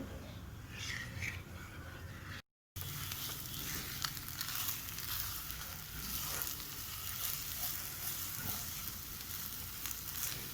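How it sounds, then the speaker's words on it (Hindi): Rice papad dough cooks in a pan on a gas stove while being stirred, making a faint, continuous sizzle and scraping hiss with one brief dropout. "देखिए गैस पे रख के अब हम इसे पकाएंगे, बराबर चलाती रहिएगा।"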